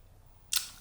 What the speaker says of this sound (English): you can kind of get a sense of the advancing sound